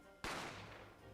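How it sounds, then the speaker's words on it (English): A single sharp gunshot in The Great Ace Attorney Chronicles, a sudden loud crack that breaks a quiet background and decays into a long ringing tail. "I didn't have time to think about where the sound of the gunshot had come from"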